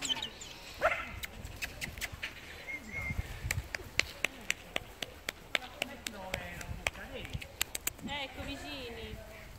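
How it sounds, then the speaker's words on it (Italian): Dog with a deep voice giving a few short barks and whimpers amid people talking, the sounds faint and intermittent over a quiet room with scattered clicks. "sentite la voce di Clyde, sentite la voce di Clyde. Un vocione"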